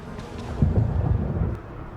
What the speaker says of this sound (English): Yo, that lightning effect is just off the hook